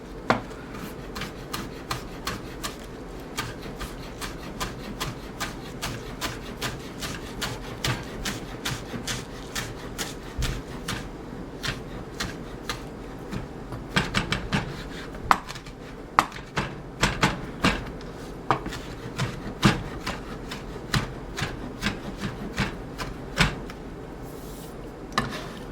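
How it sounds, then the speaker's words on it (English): A knife chops basil on a cutting board, a long run of quick, crisp, closely spaced taps with occasional louder strikes, heard up close and alone. "So I'm going to chop up some basil."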